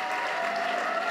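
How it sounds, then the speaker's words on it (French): A dinner-party audience applauds in a brief, steady burst of dense clapping at moderate distance, with faint crowd murmur beneath. "sous un tonnerre d'applaudissements"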